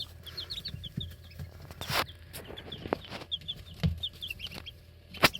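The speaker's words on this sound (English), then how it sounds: "we have 3 little black and yellow chicks who are black copper marin or maran" Two-day-old Black Copper Maran chicks peep close by in quick bursts of thin, high chirps, with soft rustling and scratching between them.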